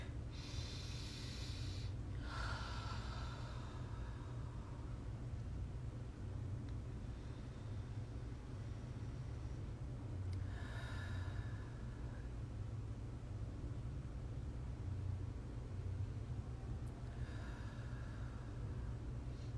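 A group of people draws slow, deep breaths together, three soft airy inhale-exhale swells spaced several seconds apart over a low steady background hum, with no one talking.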